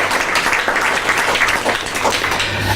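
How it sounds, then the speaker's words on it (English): Audience in a conference room applauding a panel at an integrity and ethics dialogue, a dense continuous wash of clapping that stays steady and fairly loud throughout, with a low hum underneath. "Let's give a round of applause to them."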